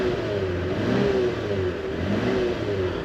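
A 2022 Lexus IS 350 F Sport's warmed-up 3.5 liter V6 engine revs steadily up and down at a moderate, smooth level, with a low mid-range hum and no one talking.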